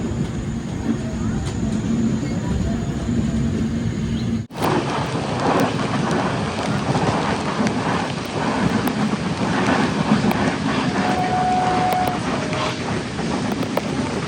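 Heavy monsoon rain roars steadily past a moving Sindhudurg Express on the Konkan Railway, mixing with broadband train rumble; a brief dip partway through interrupts the otherwise continuous loud wash.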